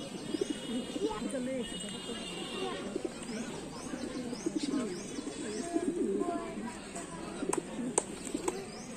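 Racing pigeons, including Belgian and German birds, coo softly in the background at an animal fair while someone talks over them with other crowd noise.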